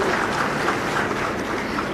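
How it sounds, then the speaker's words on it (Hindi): An audience at a public ceremony honouring the chief minister after a borewell rescue in Chhattisgarh, clapping loudly and steadily for two seconds, a dense, even wash of many hands with no break. "तो एक बार जोरदार तालियां सीएम साहब के लिए भी।"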